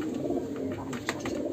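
Pigeons coo softly nearby, low throaty murmurs running steadily under a faint background hum.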